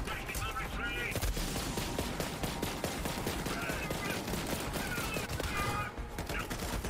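Rapid gunfire crackles steadily through a Borderlands 3 shootout, a continuous stream of shots with some heavier bursts, fairly loud, with faint voices mixed underneath.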